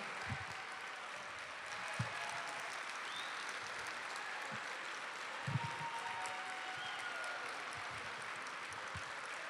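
Audience applause and cheering at an evening lecture, a steady dense roar of clapping throughout with a few louder whoops and shouts standing out.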